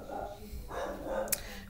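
A dog barks a few times in a home, the barks faint and partly mixed with a voice talking nearby.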